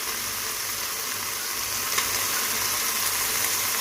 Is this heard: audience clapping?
no